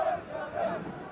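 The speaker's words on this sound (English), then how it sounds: "Huge crowd inside the ground and quite a few more were told outside as well." A huge football crowd roars and chants inside a stadium at an Exeter City match, producing a loud, dense wash of massed voices that surges briefly.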